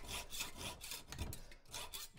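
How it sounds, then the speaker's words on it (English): A hand saw cuts through metal held in a vise, producing steady, close, rasping back-and-forth strokes in an even rhythm with no pauses. "So I'm going to cut down, trying not to cut into the vise jaws."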